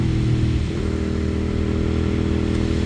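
Suzuki SV 650 motorcycle engine revving loud and close, a steady throbbing drone with a slight dip in pitch early on before settling into a sustained rumble.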